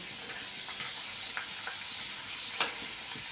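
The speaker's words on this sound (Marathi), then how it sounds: "आता अशाच आपण मिडियम गॅसवरती गोल्डन रंग येईपर्यंत खरपूस तळून घेऊ" Masvadi pieces fry in oil over a medium gas flame, giving a soft, continuous sizzle with a few small pops and crackles, fairly faint and close.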